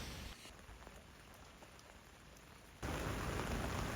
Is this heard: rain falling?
yes